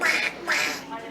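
A person's voice imitates Donald Duck, giving two raspy, nasal quacking bursts, close and fairly quiet.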